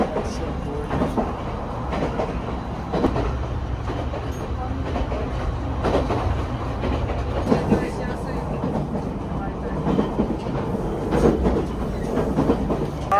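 A Japanese local train runs steadily on its rails with a continuous rumble and faint rhythmic wheel clacks throughout, no talking.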